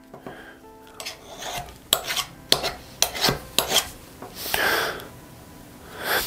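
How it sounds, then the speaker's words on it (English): A burnisher is pushed repeatedly along the edge of a steel card scraper, making about eight or nine close, rasping strokes in a steady rhythm, with no voice. "I'm just going to do a dozen or so scrapes,"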